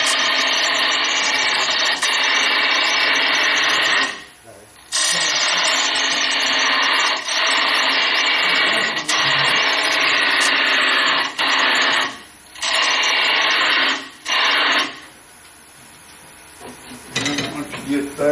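A gouge cuts a plywood bowl spinning on a wood lathe, giving a loud, continuous hissing scrape broken by brief pauses as the tool lifts away, with a voice speaking intermittently over the cutting.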